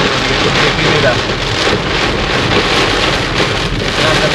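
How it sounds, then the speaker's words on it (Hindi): Heavy monsoon-style rain drums steadily on a car during a road trip toward Agra, a dense, continuous wash of close rainfall with a deep low rumble beneath it and no break. "ये देखो बारिश, देखो कितनी तेज हो रही है"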